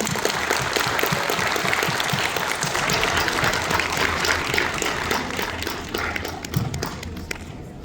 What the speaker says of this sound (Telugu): మరొకసారి ఈ పిల్లలందరికీ గట్టిగా చప్పట్లు కొట్టాము